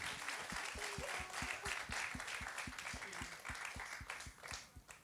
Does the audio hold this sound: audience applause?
yes